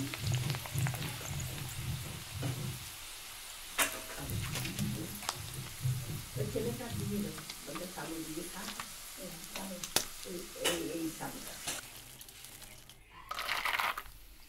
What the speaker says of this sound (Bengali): আমি 250 গ্রাম মতো সাবু ভেজে নিলাম।